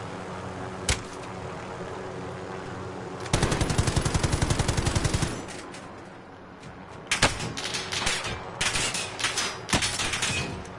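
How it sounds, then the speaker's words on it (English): Gunfire in a battle-royale video game: a sharp single shot, then a rapid rattling burst, later followed by several loud spaced blasts and clustered shots against a steady background hum. "Ooh, shotgun time."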